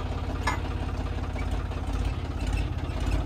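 A tractor engine idles steadily, a continuous close, loud low rumble with a rapid, even throb and no voices over it.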